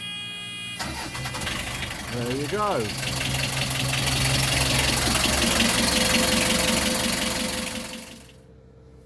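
A vehicle engine cranks and catches, then settles into a steady idle that runs close and loud for several seconds before cutting off; someone speaks briefly over it.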